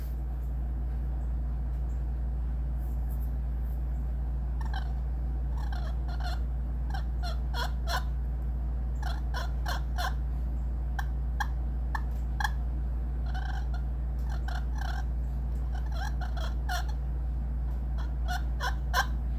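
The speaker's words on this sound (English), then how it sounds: "calls, like the jet slate, you got to play it with your hand rested right up against your body" Short scratchy yelps and clucks from a Lynch Jet slate turkey call, played in irregular bursts close up over a steady low hum.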